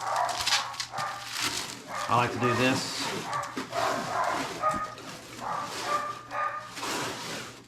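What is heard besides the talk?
dogs barking and whimpering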